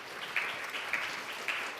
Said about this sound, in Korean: 우선 큰 박수 부탁을 드리겠습니다